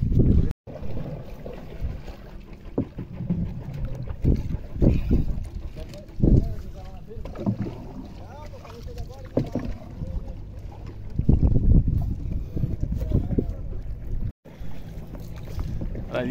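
Strong wind buffets the microphone on a small boat heading to an island for a fishing trip, a heavy rumbling roar with gusty bursts and water movement, while people talk over it.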